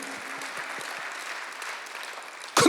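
Congregation applause at a Sunday worship service in a church: a moderate, continuous patter of many hands clapping, ending in a sudden louder burst of noise.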